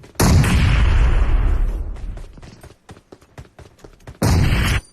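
A thrown bomb in a video game detonates with a loud, close blast that tails off into rumbling, crackling debris, followed by sharp pops and a second heavy burst.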